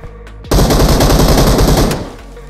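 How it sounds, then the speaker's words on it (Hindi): Automatic gunfire in the mobile battle-royale game PUBG Mobile (BGMI): a loud, rapid machine-gun burst of about a second and a half, sharp and close, standing alone with no talk over it. "अब ये मेरे ऊपर गोली चलाता है।"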